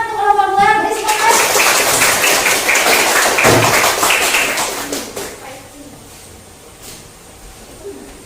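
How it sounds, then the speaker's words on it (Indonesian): Audience applause for presentation group 2 during a teacher-training classroom performance exam, dense clapping for about five seconds, then fading into quieter room noise. "Beri tepuk tangan untuk kelompok 2."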